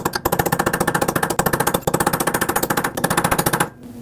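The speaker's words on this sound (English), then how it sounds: "take a chisel or a punch and tap it down right where that cutout is on the axle shaft" Chisel or punch tapping down the axle nut on a 2009-2015 Honda Pilot rear CV axle, heard as fast, steady metallic rattling hits, close and loud, running continuously before stopping abruptly.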